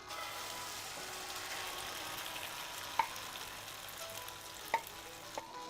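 A noodle and egg mixture frying in a little oil in a pan over medium-low heat, giving a steady, soft, continuous sizzle with a few faint utensil taps breaking through.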